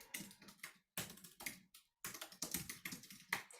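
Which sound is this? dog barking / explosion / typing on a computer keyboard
typing on a computer keyboard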